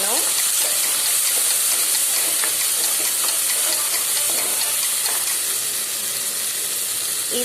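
Tomatoes and small onions sizzle and fry in a pan for a fenugreek curry, a steady close hiss with scattered crackles and stirring scrapes throughout.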